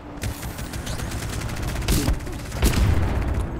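Rapid machine-gun fire from the Devotion in Titanfall 2 multiplayer crackles in dense bursts, with heavier booming hits near the middle and end, loud and close, a voice faintly mixed in.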